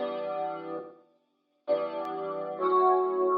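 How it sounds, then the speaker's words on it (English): A processed guitar sample called Hendrix from the Produced by Loners Layers kit, used in a 2000s-style R&B beat, plays sustained, effect-laden chords in two bursts separated by a brief silence, close and with no voice. "the last layer I added was this guitar sound from Produced by Loners Layers kit"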